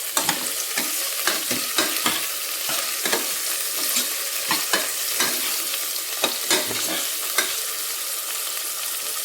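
Okra (bhindi) fries in a pan with a steady bright sizzle, broken up by frequent scraping and clanking strokes of a spoon stirring it, close and loud, with no one talking.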